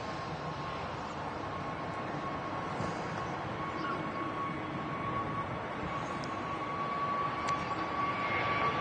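EasyJet Airbus A320neo at Manchester Airport, a steady broad engine roar with a sustained whine, continuous and fairly distant, with no talk.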